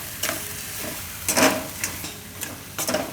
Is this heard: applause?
no